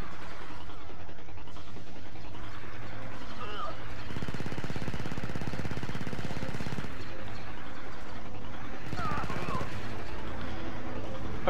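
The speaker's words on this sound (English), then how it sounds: "I probably could just go rapid fire on these guys like this" Rapid blaster fire in Star Wars Battlefront 2 during a Clone Wars battle on Coruscant, a dense, continuous crackling barrage of shots with sharper bursts among them, loud and unbroken across the clip.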